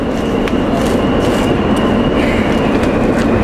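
Steady loud rumble of a subway train with a high whine running through it, continuous and close, with occasional faint clacks.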